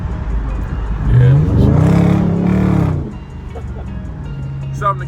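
Supercharged Chevrolet C6 Corvette engine rising in a loud, swelling rev with a rough growl, then easing back to a steady idle hum, heard from inside the car while people talk over it.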